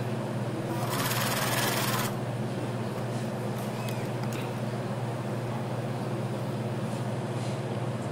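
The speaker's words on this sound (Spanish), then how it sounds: "cosemos todo alrededor y una vez cosido nos quedaría ya nuestra elástica completa" A sewing machine stitches elastic all the way around the waistband of shorts or trousers, a steady close mechanical hum with a brief louder, faster burst of needle chatter near the start.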